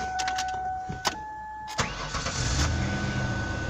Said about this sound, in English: So I've got the car started up.